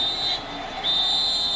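A referee's whistle on the field at an American football game between the Patriots and the Bills, a thin shrill tone blown twice over a constant crowd roar.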